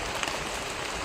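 Steady rain pouring in the mountains, a dense, constant patter and hiss close around with no pauses, fairly loud and without voices.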